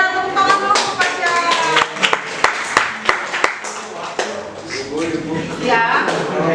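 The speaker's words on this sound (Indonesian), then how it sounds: "Tepuk tangan dulu untuk Pasya." Classroom clapping for a student during a teaching-practice lesson, a burst of sharp claps from a modest group of pupils mixed with chatter and voices talking over and after it.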